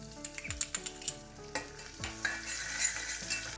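Cumin, dried red chillies and finely chopped garlic fry in hot oil for a South Indian dal rasam. A steady close sizzle runs under repeated stirring scrapes and clicks of a spoon against the pan.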